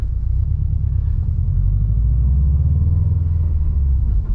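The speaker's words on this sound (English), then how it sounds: "You can probably already hear it spooling and letting off." A loud, steady engine rumble from a 2020 Subaru WRX STI turbocharged boxer engine, deep throaty low end, the motor holding a continuous note with slight swells as it idles and revs, the turbo spooling and releasing.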